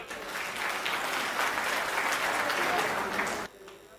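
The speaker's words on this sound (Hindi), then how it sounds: "आप लोग आनंद ले रहे हो तो जरा पीछे तक तालियां लहरा दो अपनी।" An audience at a comedic poetry event breaks into sustained applause, a dense, even roar of many hands clapping that holds for several seconds and then cuts off abruptly near the end, leaving a quieter room.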